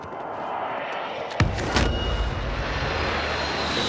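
Airplane engine in a shooter video game, a steady roaring drone with a sharp bang and a brief loud burst partway through, then continuing at a constant level.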